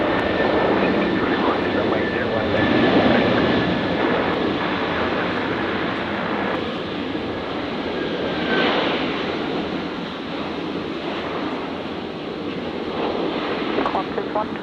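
An airliner lands on runway 01 right at Brisbane International, a sustained broad engine roar with wind-like rush holding steady throughout, voices intermittently heard over it.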